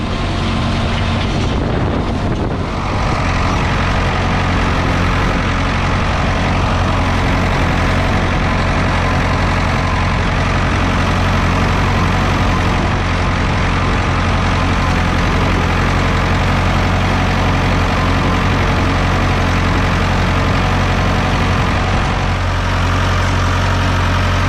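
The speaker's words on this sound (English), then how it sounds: "I'm real happy with the way the tractor is running. You're going to hear it." A Ford 6610 tractor's diesel engine idles steadily and loudly throughout, a deep continuous rumble with a low throb and no voices.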